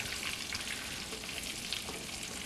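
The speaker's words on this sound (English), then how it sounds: "That oil's really sizzling now" Steady, dense sizzling of hot oil frying breaded chicken, close and continuous with no voices.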